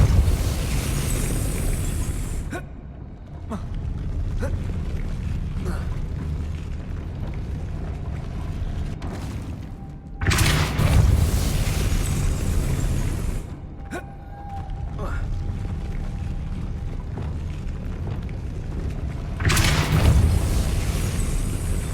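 Depulso spell blast in Hogwarts Legacy, several heavy booming bursts a few seconds apart with rumbling mechanical clatter between them, loud and full.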